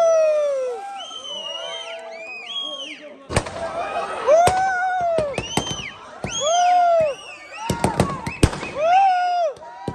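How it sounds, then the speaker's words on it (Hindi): Firecrackers and fireworks bursting at an Eid al-Fitr celebration with friends and family, sharp loud bangs in rapid irregular clusters over rising whistles, with a crowd shouting and cheering in the background. "यहाँ से उधर जा रहे पटाखे देख लो कितना मजा आ रहा है"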